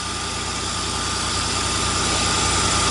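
A Chevrolet Caprice or Buick engine idles while warming up, a steady, close mechanical drone with an even low rumble and faint vibration. The engine has lately been cutting off.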